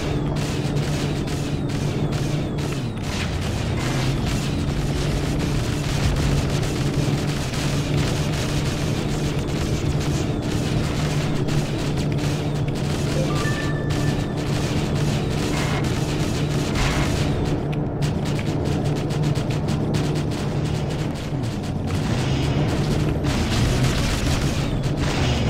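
Explosive gunfire in a shooter video game as another player fires, a dense, loud rumble of booms and blasts running continuously without a break.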